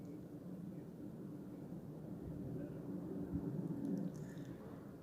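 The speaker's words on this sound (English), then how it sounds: "More aircraft." Aircraft fly overhead with a deep, steady low rumble that swells slightly and then holds, distant and continuous, with no distinct engine whine or passing peak.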